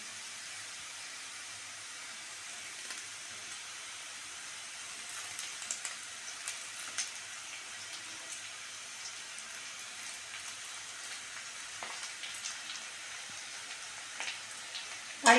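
Curry leaves dropped into potatoes frying in oil for semolina poha give a soft, steady sizzling hiss, quiet and continuous, with a few faint crackles and a sharper pop at the very end.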